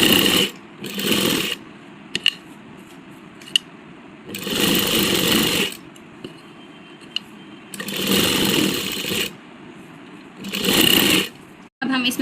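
A sewing machine stitches the lining of a baby frock in bursts of rapid mechanical whirring, four loud runs separated by short pauses with the clatter of fabric being handled.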